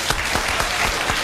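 Studio audience clapping in a dense, even patter, close and loud, filling the whole short moment with no break.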